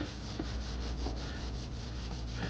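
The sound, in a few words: sanding driftwood smooth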